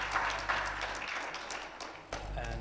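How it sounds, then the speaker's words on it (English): Applause from an audience at a Holocaust Remembrance Day commemoration, steady clapping carried over an online connection, fairly faint and continuous for a couple of seconds with a brief dip near the end. "Please, a round of applause."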